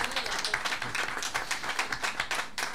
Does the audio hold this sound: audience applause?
yes